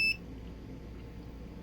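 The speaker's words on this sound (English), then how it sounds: "Oh, no, stop beeping." An AK90 key programmer working on a 2007 BMW X3 key chip gives one short, loud electronic beep at the very start, followed by a faint steady hum of background noise.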